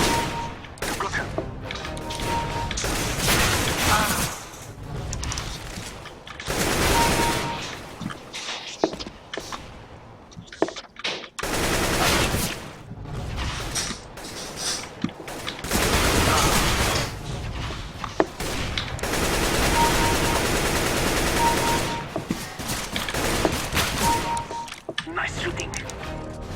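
Bursts of rapid gunfire and single shots from a first-person shooter game ring out loud and close across the whole stretch, broken by brief lulls and footsteps, with a voice talking over the action.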